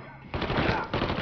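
Rapid bursts of gunfire from the video game Mafia III start abruptly and continue loud and dense, with a brief dip before another volley, and a voice is faintly mixed in.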